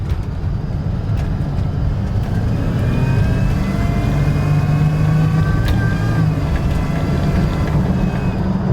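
A 2003 Toyota Tacoma fitted with a TRD supercharger runs under throttle. A faint rising whine sits over a steady low engine and road rumble from inside the cab.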